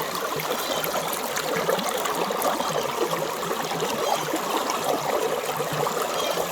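Water runs steadily through a roughly four-foot gold prospecting sluice box with a dream mat, a constant bright, close rush and trickle with no pauses.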